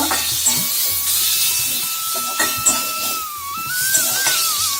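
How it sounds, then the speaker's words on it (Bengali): Onion stirred in a hot pan with salt and turmeric for a Pabda fish curry, giving a steady close sizzle with soft scraping strokes and small clicks of the spoon throughout. "ভালো করে পেঁয়াজটাকে নাড়াচাড়া করে নেব"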